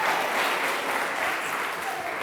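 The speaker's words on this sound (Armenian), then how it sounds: "Եկեք մեր դերասաններին ծափահարենք։" An audience at a school arts performance applauds the actors with steady, full, continuous clapping throughout.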